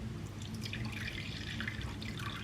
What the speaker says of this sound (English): we are going to add tepid water, so not very hot, not very cold